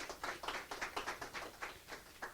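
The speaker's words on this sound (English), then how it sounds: "Round of applause for that." Scattered applause from a small audience at a music industry business panel: a steady run of sharp claps lasting about two seconds, soft and fairly distant, with no talking over it.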